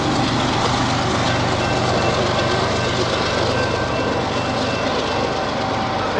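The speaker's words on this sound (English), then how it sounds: "That is one awesome train." A giant freight train with six engines rolls past close and loud, a constant heavy rumble of rail cars and wheels with faint clatter and a steady engine drone throughout.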